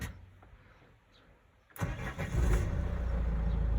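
A cold Renault Trafic passenger van engine cranks briefly and catches, then settles into a loud, steady idle close by after a quiet opening.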